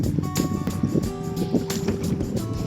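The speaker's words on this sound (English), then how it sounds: "That's a lot of wind." Strong wind buffets a canoe on a glacier lake trip among icebergs, a steady loud broadband rush with gusts over faint water sounds.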